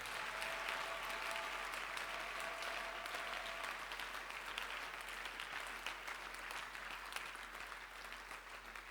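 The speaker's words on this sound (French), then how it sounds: "Acclamons pour le Seigneur." Church congregation applauding for the Lord at a Passover seminar, a sustained, dense wash of clapping from a large crowd that rolls on steadily and slowly thins toward the end.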